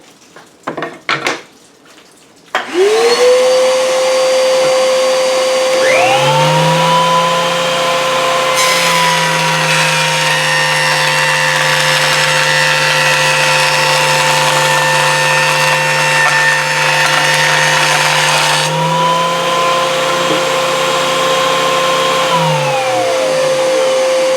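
A Wen 6-inch spiral cutterhead jointer spins up to a loud steady whine as a board is planed across it for several seconds, then winds down, with a few clatters before start-up.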